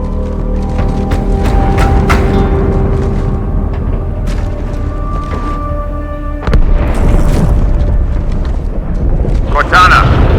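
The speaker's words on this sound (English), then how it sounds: "That explosion came from inside the Athens, same as the Malta." Deep explosion booms inside a starship in the video game Halo 2: Anniversary, heavy low rumbles with a sharp louder blast partway through, heard under loud voices and mechanical roar.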